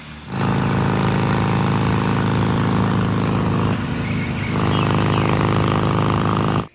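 Toy Harley Davidson motorcycle plays a recorded engine sound, a loud, continuous buzzing rumble that dips briefly midway and cuts off abruptly at the end.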